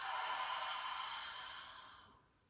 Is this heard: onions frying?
no